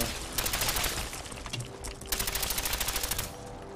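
Rapid automatic gunfire from a weapon in the video game Fallout 4 rattles off in fast, dense bursts with a short break in the middle, loud and continuous with no talk over it.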